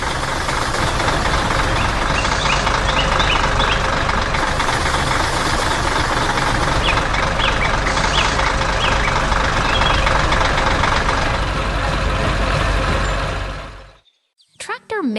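A red farm tractor's engine roars steadily in a yellow rice field, a dense continuous rumble with knocking texture that runs for most of the stretch before cutting off abruptly near the end, with narration over it.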